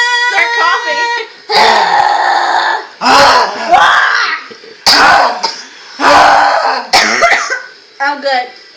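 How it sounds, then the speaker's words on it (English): Coughing after inhaling helium, several bursts of harsh coughs with squeaky, high-pitched voiced tails, close and loud, separated by short pauses. "Start coughing."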